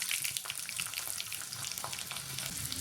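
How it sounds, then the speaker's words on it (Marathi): Plenty of garlic, cumin and asafoetida fry in hot oil for lasuni methi bhaji, making a faint, continuous sizzle with small spattering pops over a few seconds. "एखादा मिनिट लसूण परतायचा आहे आपल्याला।"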